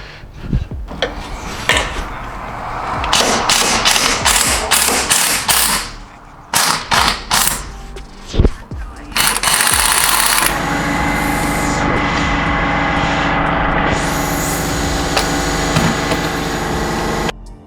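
An impact wrench loosens bolts on a Toyota MR2 Spyder during a K24 turbo build, hammering in short loud bursts with pauses, then running in one long continuous rattle up close.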